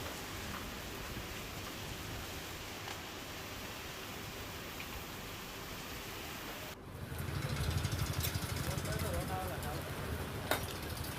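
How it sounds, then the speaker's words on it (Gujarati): Rain falls steadily in Gujarat while rainwater runs through a market street, making a constant broad wash of noise. The wash turns louder and fuller partway through, and a single sharp knock comes near the end. "વરસાદી પાણી વહેતા થયા।"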